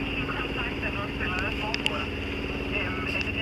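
A sailboat's engine motors steadily at a low, even drone, close and continuous, with wind and water noise over it on a crossing from Egå toward Roskilde.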